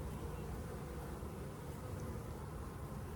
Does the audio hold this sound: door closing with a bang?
no